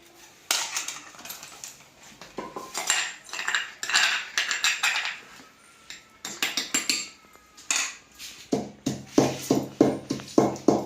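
Hot tomatoes being ground into chutney in a new stone mortar (rolu): irregular clacking and scraping of stone on stone in bursts, close and moderately quiet, settling into a steadier rhythmic pounding toward the end.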